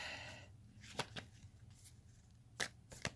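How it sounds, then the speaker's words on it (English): Tarot cards being shuffled in a quiet room, a few sharp riffling bursts separated by softer handling noises. "I'm just shuffling here my Witch's Tarot deck"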